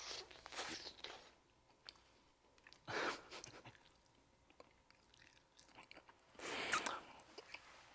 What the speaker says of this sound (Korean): 얼만큼 잘 됐는지 먹어보도록 할게요